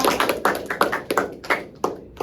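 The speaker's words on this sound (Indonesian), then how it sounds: "tepuk tangan buat kita semua" A small group claps in a classroom lesson, about six sharp, uneven bursts of hand claps spaced roughly every third to half second, close and fairly loud with no voices.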